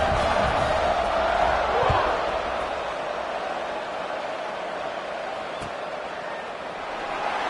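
Stadium crowd at a Wyoming college football game around kickoff, a broad, steady roar of many voices filling the space, swelling slightly near the end.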